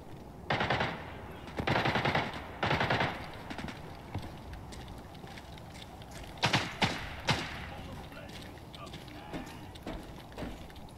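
Bursts of gunfire in a video game firefight, shots coming from inside a building: several rapid volleys early, then sharper separate shots and scattered pops, with speech also present.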